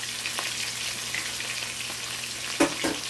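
Three yellowtail snapper frying in oil for Jamaican escovitch fish sizzle steadily and close by, with a couple of louder pops and crackles near the end.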